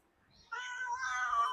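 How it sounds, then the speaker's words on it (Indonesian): A house cat gives a single drawn-out meow close to the microphone that rises after a brief quiet start and holds until it trails off. "aku ke distract sama kucing aku"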